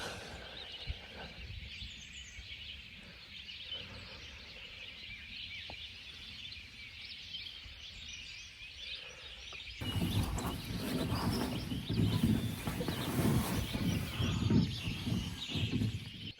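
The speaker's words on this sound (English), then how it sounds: "Listen to all the birds." Birds singing outdoors in the morning at a camp, a scattered chorus of faint chirps and calls that later sits under a louder rustling wash of nearby noise.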